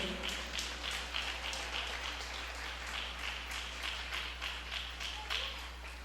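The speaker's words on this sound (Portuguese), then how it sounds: "Quer aplaudir a Jesus? Pode aplaudir. Isso, pode aplaudir." A church congregation applauds steadily for several seconds, a dense patter of many hands clapping from a moderate distance.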